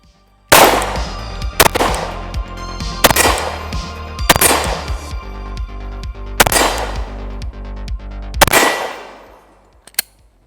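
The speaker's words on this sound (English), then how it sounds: "we're gonna do a little bit more shooting and then close out the video" Glock 36 pistol fired outdoors: six loud, sharp shots spaced roughly one to two seconds apart, each ringing out with a long decaying echo, then a faint click at the end and no talk.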